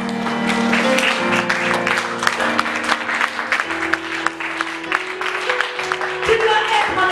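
A church congregation claps and cheers in praise of the Lord, steady dense applause continuing throughout alongside musical tones and raised voices.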